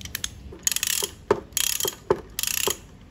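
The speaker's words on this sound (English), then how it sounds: "I'm going to fasten another nut up there, size 14." Ratchet of a 14mm socket wrench fastening a nut on a Proton Persona engine mount, heard as several short bursts of rapid clicking separated by brief pauses, close and fairly loud with no talking.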